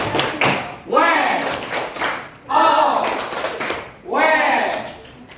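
Children in a classroom performing the 'tepuk wow' clap routine: three loud, rhythmic rounds of clapping and shouting, each burst rising and then falling, with short gaps between them.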